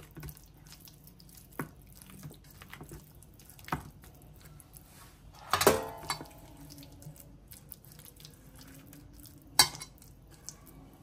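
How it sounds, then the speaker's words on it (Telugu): Chicken leg pieces being mixed in a pan at home, heard as sparse scrapes and clinks of a utensil against the pan, with a louder clattering burst midway and one sharp knock later over quiet background. "మిక్స్ చేసుకుని వచ్చి ఇవంతా బాగా లెగ్ పీస్ పట్టిల్లా"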